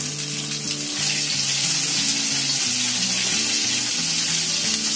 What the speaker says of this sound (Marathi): आता आपला कांदा टाकल्यावर अर्धा मिनिट फिरवून घ्यायचा, असं चांगला ढवळून घ्यायचा